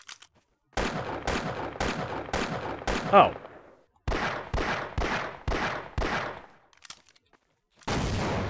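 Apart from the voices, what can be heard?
gunfire hitting player in the Half-Life video game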